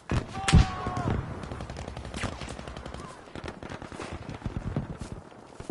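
Video game gunfire in Battlefield 5: rapid automatic bursts and single shots crackle across a busy battlefield, with several loud close reports early on and a continuous clatter of distant fire.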